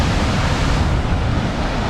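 Steady, loud roar of the Düden Waterfall in Antalya, Turkey, swollen after rains, fills the whole clip, a dense broadband wash with no talking.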